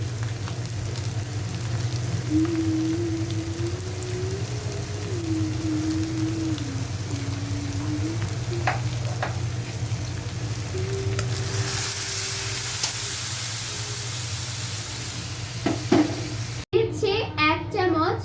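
Dried fish frying in a pan as dried chili paste is added, a steady close sizzle with occasional stirring scrapes and a brief clatter near the end, under a voice.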